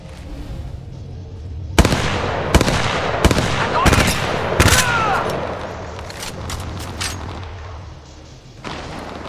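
Gunfire in the mobile battle royale game Apex Legends Mobile, with a series of sharp, loud shots in irregular bursts over a busy background of game sound.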